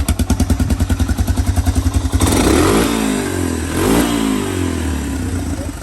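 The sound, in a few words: Honda 250SX ATV engine starting and revving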